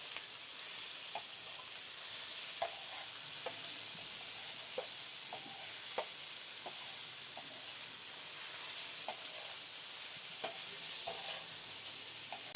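Tomato and green chilli are stirred into chicken frying in a pan: a soft, continuous sizzle with a series of light scraping and tapping stirs at irregular intervals, fairly quiet and close, with no speech.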